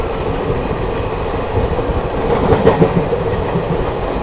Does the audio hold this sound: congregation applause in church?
no